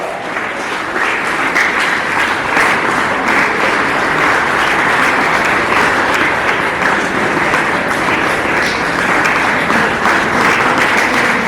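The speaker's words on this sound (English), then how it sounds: "I request a round of applause for his outstanding efforts" School audience at a Republic Day ceremony at St Theresa High School applauding a trophy winner, a sustained even roar of many hands clapping throughout, loud and continuous with no talk.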